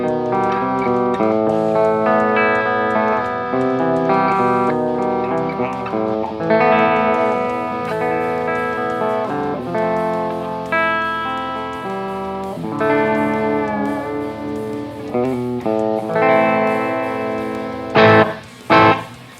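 Schecter Banshee 6FR electric guitar with EMG 81/85 pickups, played through the clean channel of a Bugera G5 Infinium amp with volume at noon. A continuous melodic picked line sounds close and steady, ending in a few sharp strums.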